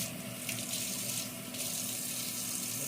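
Water runs steadily from a kitchen tap into a container for beaten breakfast-taco eggs, making a continuous broadband splashing hiss of moderate loudness with no speech over it.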